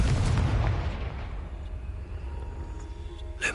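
A spell blast in Hogwarts Legacy lands as a loud, booming explosion that rumbles heavily at the start and fades into a long decaying tail, with a brief crackle near the end.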